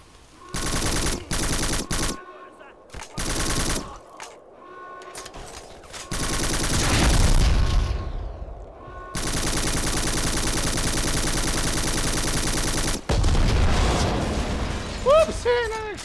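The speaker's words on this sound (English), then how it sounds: "another explosion" Heavy bursts of machine-gun fire and booming explosions from the shooter video game Black roar in rapid, overlapping volleys, broken by short quiet gaps, with one long sustained blast of noise near the end.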